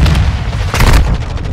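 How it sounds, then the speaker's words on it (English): Grenade blast in the video game Modern Warfare 2, a short, loud booming explosion with a sharp burst midway and a rumbling tail, heard alone. "Grenade!"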